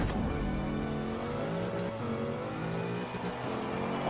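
A car in the Forza Horizon 4 racing game accelerates hard during a snowy cross-country race, its engine droning loud and steady with a sustained rising roar that carries through the whole stretch, no voices present.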